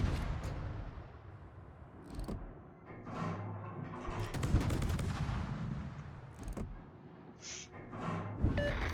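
Naval guns firing from a warship at an approaching kamikaze ship in a naval combat video game, with repeated booming shots and rumbling blasts spread across the stretch, some louder bursts standing out against a steady battle din.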